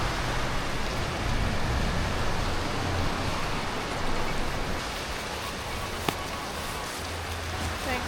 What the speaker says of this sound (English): It's raining for the next 4 days.